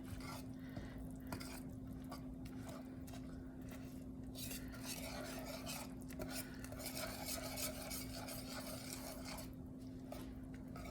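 A spoon scrapes and stirs thick, hot coconut pecan frosting in a pot, soft continuous scraping and faint bubbling over a low steady hum, quiet and close throughout.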